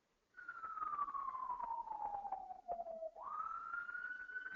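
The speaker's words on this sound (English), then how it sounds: "I hear sirens in the background." A single siren wails steadily at moderate distance, its pitch sliding slowly downward before jumping back up and holding, with no talking over it.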